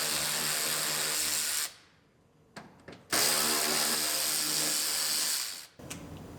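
A power tool unbolts a car bumper in two close, loud whirring bursts, separated by a gap of small clicks and knocks, and the second burst drops off into a brief final rattle.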